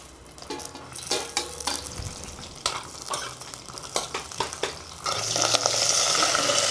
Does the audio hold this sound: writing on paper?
no